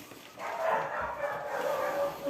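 A dog barks and yips at a distance, its voice rising and falling in uneven bursts against background noise while people talk.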